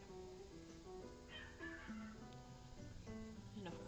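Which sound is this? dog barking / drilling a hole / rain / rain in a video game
dog barking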